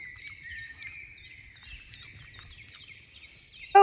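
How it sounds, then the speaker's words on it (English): Birds singing in the Croatian countryside, several clear, repeated chirping and warbling calls close by over a quiet background, with a brief louder knock at the very end. "Do you hear those birds?"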